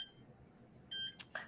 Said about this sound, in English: My husband set the alarm.